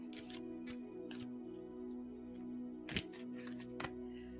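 Cards being shuffled in quick riffling bursts, a few sharp flutters over a steady low hum, fairly quiet and close.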